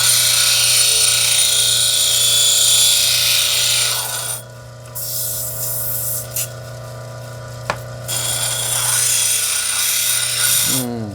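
A power saw grinds through a piece of calcite, a loud continuous whine that drops in intensity partway through, with brief sharp clicks, then returns.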